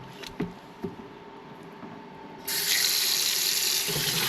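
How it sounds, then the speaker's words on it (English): Cold tap water runs over oxtail being rinsed in a sink; a couple of soft knocks come first, then a steady, hissing stream of water starts halfway through and continues. "wash your meat with cold water"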